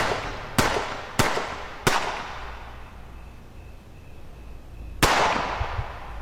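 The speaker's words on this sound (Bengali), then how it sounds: "উপর থেকে 7-8 রাউন্ড গুলির শব্দ ছুটে এলো" Gunshot sound effects in a Bengali thriller audio story: four sharp, loud cracks, three in quick succession and a fourth after a pause, each trailing off into a short echoing decay.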